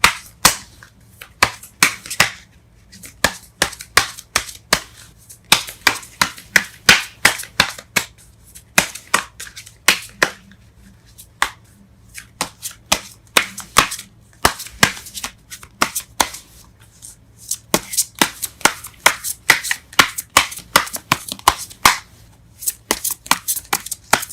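Tarot cards are shuffled over and over in quick, crisp riffling bursts, each a sharp flurry of slaps, with short pauses between rounds as cards are pulled. The sound is close and loud, with no talking.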